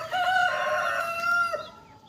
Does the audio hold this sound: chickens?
yes